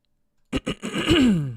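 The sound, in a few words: throat clearing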